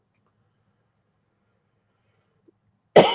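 After near silence, a single sharp cough bursts out close up at the very end.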